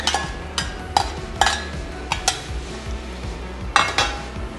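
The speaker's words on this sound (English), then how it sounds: "Add back in the bacon and the aromatic." Bacon and aromatics go into stir-fried shrimp and leafy green noodles in a pan: repeated sharp metal clinks and scrapes of a utensil over a soft low sizzle, close and alone without talk.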